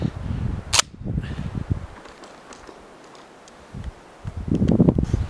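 A Dominion Arms Cougar shotgun, a Remington 1100 clone, fires a target load outdoors: one sharp, loud report early on, followed by rustling and faint outdoor noise.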